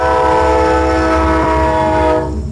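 A train sound effect plays as a stream hype-train alert: a sustained, loud horn-like tone with steady harmonics and a rumbling rail bed underneath, fading slightly at the end.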